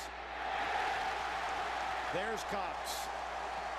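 Crowd in a football stadium during a college game, Auburn at Georgia, roaring in a distant, sustained wash while a commentator talks over it.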